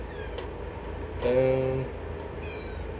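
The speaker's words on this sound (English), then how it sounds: "My cat is meowing for some reason." A house cat lets out one drawn-out meow, fairly clear and close, over low room noise while someone is restringing a guitar.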